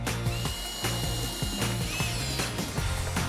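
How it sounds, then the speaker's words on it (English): Power drill driving 2-inch screws into wooden Adirondack chair armrests, several short whirring bursts and clicking pauses in quick succession, close and fairly quiet. "I'm going to fasten the armrests with 2-inch screws."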